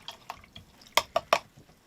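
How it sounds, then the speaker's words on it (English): A paintbrush is rinsed in a water cup, giving a few soft splashes followed by three sharp, close drips, each one distinct in an otherwise quiet space. "Rinsing my brush off,"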